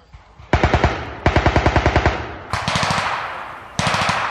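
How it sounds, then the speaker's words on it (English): Machine gun fire during a military infantry exercise: two loud close bursts of rapid evenly spaced rounds, followed by further sustained fire, some sounding more distant and echoing. "Hey, stop shooting!"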